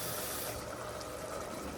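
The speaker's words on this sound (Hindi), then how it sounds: "मसाला तैयार है, अब इसमें डालेंगे पानी" Water pours into a cooked masala for rice, making a brief, continuous rushing splash and hiss, close and steady throughout.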